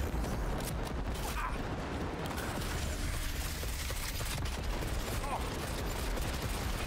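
Gunfire in Cyberpunk 2077, rapid bursts of crackling shots and mechanical clatter running continuously, with a player talking now and then.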